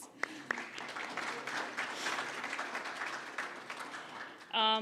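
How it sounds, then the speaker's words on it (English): An audience applauds at the grand opening of the Wacheno Welcome Center, a steady moderate burst of clapping that runs throughout before a voice cuts in at the end. "Round of applause."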